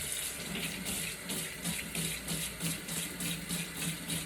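Water running steadily from a tap into a sink, a continuous close splashing rush with a faint rhythmic pulsing, moderately loud and without voices.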